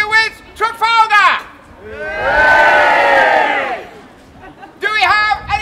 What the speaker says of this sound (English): Give me a cheer if you wish